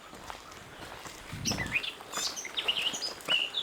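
Small bird chirping in short, bright bursts, several quick trills and tweets repeating over a faint background rustle.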